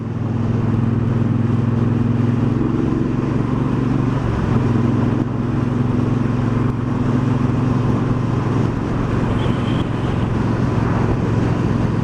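2018 Triumph Bonneville Bobber motorcycle on the road, a loud continuous engine drone with a slight pitch shift as revs change, heavy wind noise throughout.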